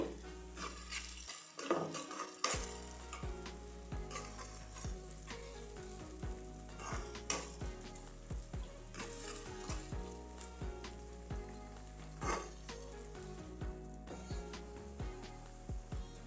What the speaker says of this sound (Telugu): బంగాళదుంపలు, ఉల్లిపాయలు కొంచెం వేగుతుంది కదండి